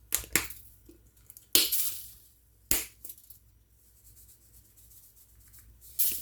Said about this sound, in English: Have an old pan like I do. I always add some foil to it.